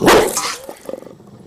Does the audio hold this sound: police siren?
no